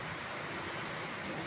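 Heavy rain pours in a dense, unbroken hiss while the road floods and runs like a canal, steady and close for the whole stretch.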